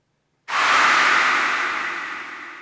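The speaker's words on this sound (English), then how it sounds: "that's the white noise" Dense white noise from a sound bank triggered by touching a Touch Board comes in suddenly after half a second, loud and steady, then slowly fades, heard alone with no reverb.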